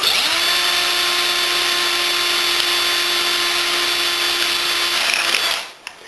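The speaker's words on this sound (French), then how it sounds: "je vais juste faire un trou central avec une mèche un peu plus large" Power drill with a fairly wide bit boring central holes through plastic seedling cups, a close, loud steady whine lasting about five seconds before spinning down to near quiet.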